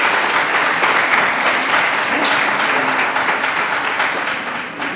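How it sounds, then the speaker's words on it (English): Audience at a graduate studies matriculation ceremony applauds, a loud, dense round of many hands clapping that holds steady, then tapers slightly toward the end. "we're gonna give them a round of applause"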